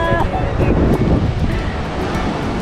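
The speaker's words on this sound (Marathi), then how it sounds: "हा लाटा येत आहेत" Sea waves washing in at Velas beach, a steady broadband surf roar mixed with wind buffeting the microphone, with voices faintly present underneath.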